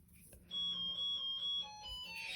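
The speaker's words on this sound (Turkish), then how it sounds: "Evet arkadaşlar kapı çaldı" An electronic doorbell chimes in a home during a needle lace craft session, giving a sustained tonal ring with a clear pitch step partway through, fairly close and loud against quiet room noise.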